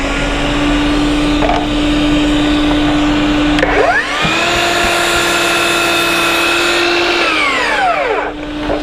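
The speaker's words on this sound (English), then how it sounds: "Dust collector." A dust collector in a woodworking shop runs loud and steady throughout, its motor whine rising and falling as it spins up and down, with no voices.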